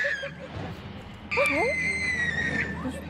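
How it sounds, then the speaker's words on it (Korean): A high, sustained scream rings out across Bled Island on the glacial Lake Bled in the Alps, sudden and loud, rising over a quieter bed of distant voices and ambient noise. "블레드섬에 울려 퍼지는 비명소리."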